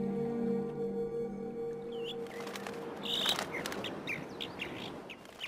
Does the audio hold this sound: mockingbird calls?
yes